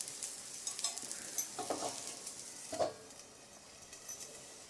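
An onion-tomato uttapam fries on a pan after a little oil is poured over it, giving a quiet, close sizzle with a few faint scraping clinks.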